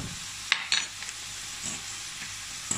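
Carbonara pasta being stirred with grated parmesan in a pan, a few soft scraping clinks of a utensil over a faint continuous sizzle, close and quiet, no voices.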